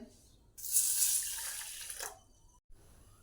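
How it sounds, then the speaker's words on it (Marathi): Water from a kitchen tap runs in a steady splashing burst over mixed moong, toor, masoor and matki dal being rinsed, then cuts off, leaving low background noise. "ह्या डाळी आपण दोन ते तीन पाण्याने स्वच्छ धुवून घेऊया"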